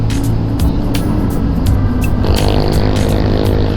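Dense city traffic heard from a moving motorcycle, a constant close roar of engines and road noise with occasional brief clatters and a rising engine drone partway through, no voices.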